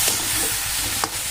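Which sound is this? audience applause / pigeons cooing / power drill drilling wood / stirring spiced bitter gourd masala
stirring spiced bitter gourd masala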